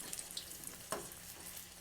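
Oil sizzles and crackles steadily as chicken balls fry over medium heat, with a brief louder spatter partway through.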